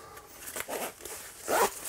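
A zipper on a motorbike jacket is worked back and forth in a few short, close, scratchy pulls, the last one longest and loudest, with no talking.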